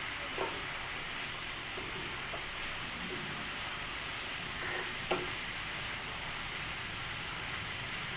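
Greens cooking in a pan with salt and turmeric, heard as a constant hissing sizzle with faint occasional stirring taps, fairly quiet throughout.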